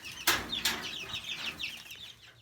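Chickens in a new backyard coop cluck and chatter softly at close range, a couple of sharp calls followed by a run of quieter, rapid clucks.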